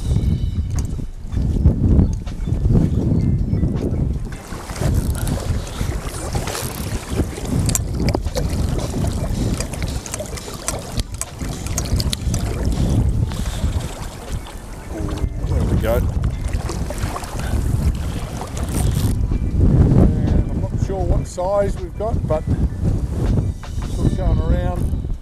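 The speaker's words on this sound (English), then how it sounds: "As it gets a little windy." Steady, loud wind buffets the microphone aboard a small fishing boat on Lake Eucumbene, with rushing gusts and faint water noise throughout, and a person talking briefly in places.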